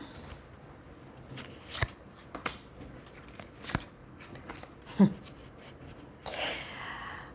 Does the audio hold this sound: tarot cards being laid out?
yes